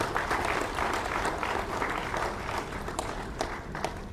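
A crowd at a live speaking event applauds continuously, a thick, steady roar of clapping with a few distinct nearby claps standing out.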